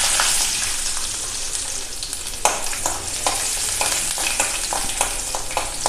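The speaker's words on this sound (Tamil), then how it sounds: "இதையும் வதக்கிக்கலாம்." Ginger and garlic sautéing in hot oil in a pan, a loud steady sizzle close up with repeated scraping stirs and clicks of a spatula, no talk.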